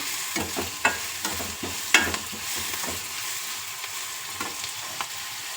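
Onions fry in a pan until lightly reddish, for a simple egg fry, with a continuous hissing sizzle and a few clicks and scrapes of a stirring spoon, close up and without any speech.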